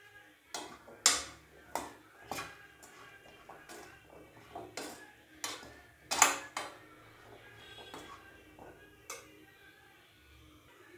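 A spoon mixes chickpea sundal with grated coconut in a pan, making sharp, irregular clicks and knocks against the metal, some louder than others, with quiet gaps between strokes.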